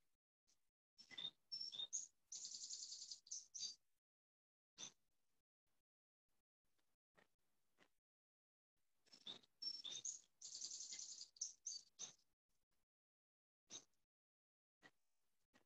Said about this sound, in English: And just hear the birds.